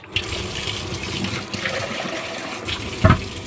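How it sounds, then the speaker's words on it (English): Orchid pot plunged into a bucket of RO water, giving a continuous watery churning and gurgling that swells into a louder splash near the end, close up with no talk. "Bucket of water, and down you go."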